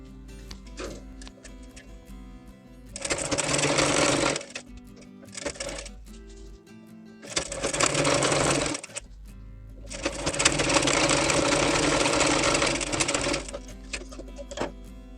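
Sewing machine stitching a round seam on a girl's top, running in several fast whirring bursts of a few seconds each, separated by short pauses with faint clicks and handling noise.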